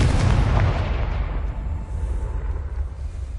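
A Confringo blasting spell from Hogwarts Legacy detonates with a loud, deep boom at the start, then rumbles and decays over a few seconds, with no voices.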